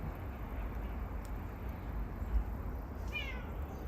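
A single faint, distant cat meow from high up in a tree near the end, rising and falling over a steady low rumble of outdoor background noise.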